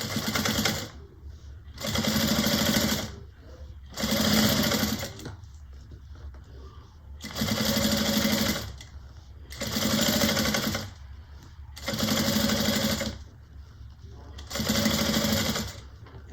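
Sewing machine basting a piping strip onto a fabric bag, running in steady bursts of roughly a second each, separated by short pauses, close and even, with faint speech in the gaps.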